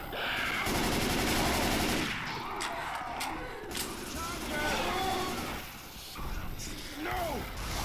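Dense rifle fire and other gunfire in the zombie shooter Left 4 Dead 2, with sustained rapid shots and game noise throughout and voices speaking over the chaos.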